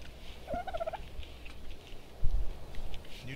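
A dodo in the game Ark gives a short gobbling, clucking call near the start, followed by a low thump, set against quiet ambient background with no talk.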